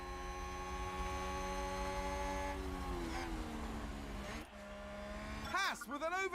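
F1 Manager 2022 race cars roar past in a continuous engine drone that shifts pitch and ends in sharp rising and falling whooshes as cars overtake, with no talk.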